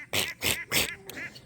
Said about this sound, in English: What's that, Ducker? Quack, quack, quacker.